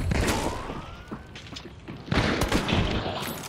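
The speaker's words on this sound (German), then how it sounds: "Immer Shotgun-Schüsse, also, ne?" Loud shotgun blasts in the video game Hunt: Showdown boom in quick bursts, with thuds and echoing impacts scattered across the clip.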